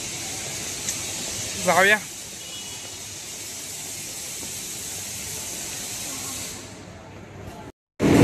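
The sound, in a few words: train arriving at a station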